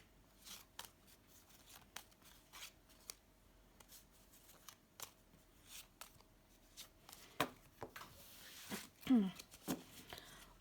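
Tarot cards are shuffled and drawn, making soft, scattered flicks and snaps at close range. The clicks come irregularly over a quiet background, and a voice is faintly heard toward the end.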